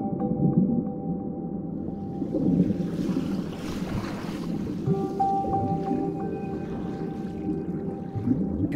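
Bottlenose dolphins signal underwater, thin whistle-like tones and tonal streaks rising over a steady low sea and boat rumble, with a brief burst of broadband clicking midway; fairly faint and continuous, no voices.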